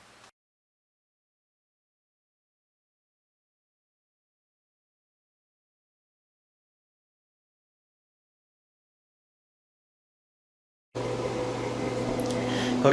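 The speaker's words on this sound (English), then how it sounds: "the fridge just kicked on here." A refrigerator kicks on after a long near-silence, starting a steady low mechanical hum with a tonal buzz that carries on to the end.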